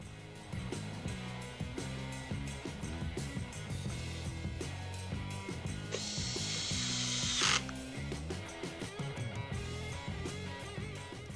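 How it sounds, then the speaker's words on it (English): Screws being driven into the plastic starter cover of a Husqvarna string trimmer, a steady ratcheting, clicking mechanical whir running throughout over background music, with a brief hiss partway through. "We'll run these screws in."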